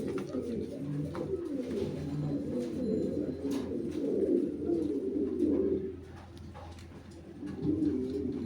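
Lahori pigeons at a farm coo steadily in overlapping low, rolling calls, close by and continuous with no voices.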